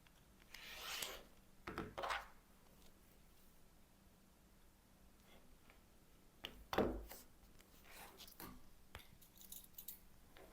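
Rotary cutter strokes slice through fabric strips for a quilt border, a few quick rasping cuts with scrapes of the ruler between them, close and fairly quiet.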